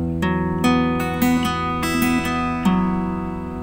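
Acoustic guitar chords from a beginner song lesson, strummed in a steady pattern of about six close, loud strokes with ringing sustain between them and no talking.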